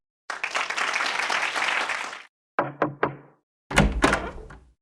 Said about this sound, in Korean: 모두 박수 부탁드립니다.